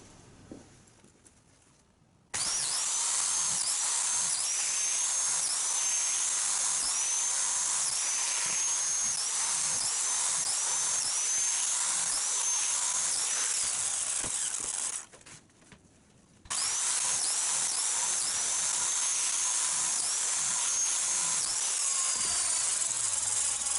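A biscuit cutter bites into timber in two long, loud high-pitched whining cuts, each held for over ten seconds and separated by a short quiet pause.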